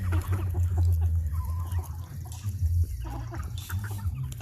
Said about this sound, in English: Apparently, I've got lots of stuff on me today because chickens are all over.